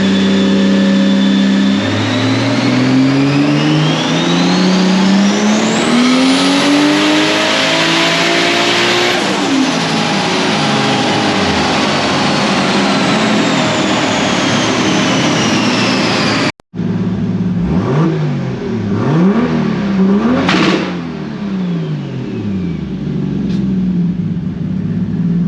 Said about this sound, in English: how loud the two-step is on this car